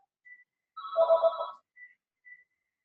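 A mobile phone rings at home in short electronic bursts, a few brief tones then a longer warbling ring, faint and isolated against near silence.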